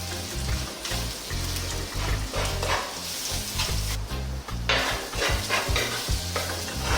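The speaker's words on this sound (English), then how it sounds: "We'll just cook those onions for like 3 or 4 minutes just so they kind of soften a little." Onions with garlic and ginger fry and are stirred in a pan over above-medium heat, giving a steady close sizzle broken by repeated scraping and stirring strokes, with no voices.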